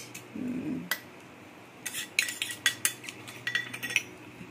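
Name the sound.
spoon stirring a raw mango drink in a bowl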